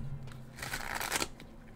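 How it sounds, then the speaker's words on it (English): A horror tarot card deck is shuffled in one quick riffle, a close, soft burst of papery flutter lasting about half a second over quiet room tone. "See how easy it is to shuffle, though?"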